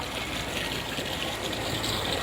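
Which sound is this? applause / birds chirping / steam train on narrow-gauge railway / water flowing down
water flowing down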